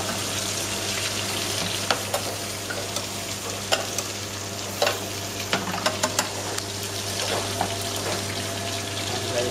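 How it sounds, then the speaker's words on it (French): Meat frying in butter in a restaurant kitchen pan, sizzling steadily while being basted over and over, with a continuous close hiss broken by sharp spoon clinks and splashes at irregular intervals. "On va bien arroser la viande aussi à chaque fois."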